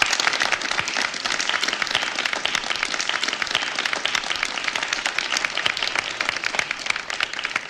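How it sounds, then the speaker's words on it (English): Audience applauding a graduating class, dense steady clapping from many hands that holds at an even level for the whole stretch, with no voices above it. "Go ahead and clap. They worked hard."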